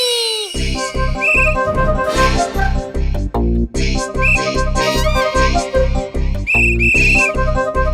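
Short high whistle toots cut through a pulsing, driving music track, recurring several times at irregular intervals.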